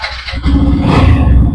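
A second-hand motorcycle engine fires up at a used bike showroom near Kolkata, a brief crank and then a loud, close, rumbling idle.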